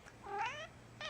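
A pet cat meows twice close by: a long, drawn-out meow that rises and falls, then a short, sharper one after a brief pause.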